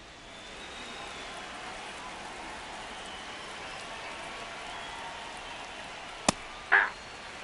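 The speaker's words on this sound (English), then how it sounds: "This rain is not letting up." Rain falls at a ballpark as a steady, even hiss of drops on surfaces, with a sharp single click and a brief bump of noise near the end.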